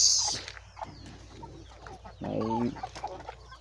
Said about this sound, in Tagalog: breeder kani ang mga papa sa mga manok